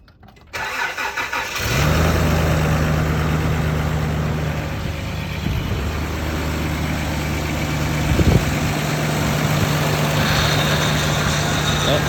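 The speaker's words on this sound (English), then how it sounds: "We'll see what it sounds like on a cold start at this temperature" A 1988 Toyota Land Cruiser FJ62 cold-starts after a short crank, then settles into a steady, even idle with a constant low hum, recorded close to the engine bay.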